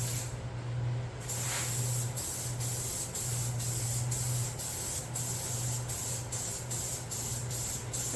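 Aerosol clear coat hisses in repeated close bursts over a painted Little Tikes toy car, several sprays of a few seconds each with short gaps between them.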